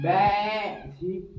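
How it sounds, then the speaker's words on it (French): Sheep or goats bleat in a video game, a wavering cry that overlaps a man's brief exclamation and continues faintly after. "c'est pas les bruits des moutons ou des chèvres, ça?"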